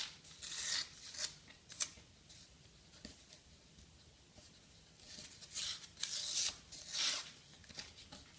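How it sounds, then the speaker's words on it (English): Blade drawn through paper during a keyboard build, heard as soft scratchy scraping strokes in several separate bursts, quiet and close with pauses between. "just cut through the paper just enough so it's cut"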